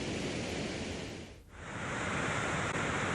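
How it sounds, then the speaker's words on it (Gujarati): Floodwater of the Damanganga river surging bank to bank after heavy rain and a dam release, a steady loud broadband rush that briefly dips before returning at full strength, with no voices. "દમણગંગા નદી બે કાંઠે વહી રહી છે"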